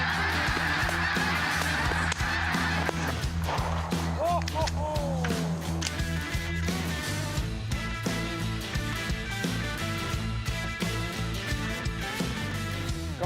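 Migratory geese and Canada geese honk in a large flock at Lac Saint-Jean, a steady chorus of overlapping calls over constant wind or engine rumble, some honks nearer and clearer.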